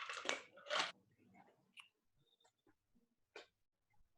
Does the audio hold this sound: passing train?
no